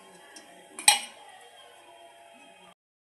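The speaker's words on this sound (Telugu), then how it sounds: "ఇప్పుడు పెనం పెట్టుకొని దీంట్లో ఆయిల్ వేసుకోవాలి." A pan is set down on a stove for frying paneer, giving one sharp metallic clank near the middle with a short ringing tail, plus a softer knock just before it, in an otherwise quiet kitchen.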